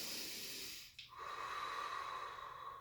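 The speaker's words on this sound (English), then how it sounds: "And here I'm going to breathe." Slow, audible breathing during a standing yoga exercise against a wall, a long airy exhale, a brief pause, then a drawn-out inhale, close and quiet with no talking.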